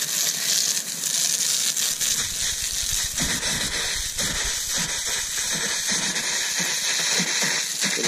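A garden hose sprays water hard and steadily to rinse car wheels, with sputtering from air in a freshly changed hose, loud and close throughout.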